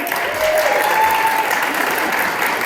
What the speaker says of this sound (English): Can we get another round of applause for Michael?